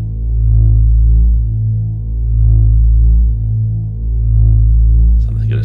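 A deep, droning synthesizer soundscape built from an artist preset throbs in slow, swelling pulses of low hum, loud and steady, with a faint voice starting at the very end.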